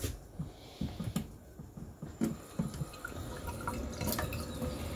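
Water is poured into rajma, a kidney bean curry, while it cooks, giving soft irregular trickles and drips at low level with no talking.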